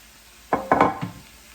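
Sausage being broken up in a pan while cooking gives a few quick scraping, clattering strokes in a short cluster over a faint sizzle.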